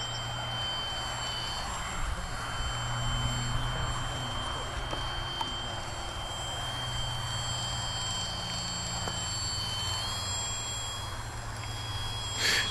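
Model autogyro flying outdoors gives a steady buzzing motor whine at a moderate distance, continuous for the whole stretch with slight shifts in pitch and level, over a broad background of wind noise.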